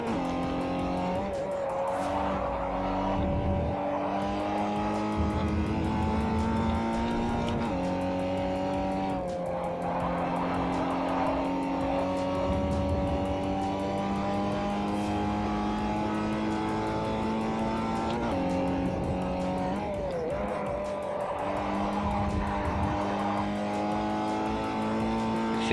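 A Mazda MX5 race car in Forza 4 laps the track, its engine revving continuously up and down through gear changes, with occasional tire squeal in the corners, loud and close throughout.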